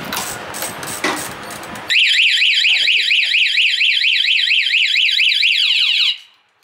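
After a couple of seconds of noisy rumble, a loud car alarm siren warbles rapidly up and down, sustained for about four seconds before cutting off.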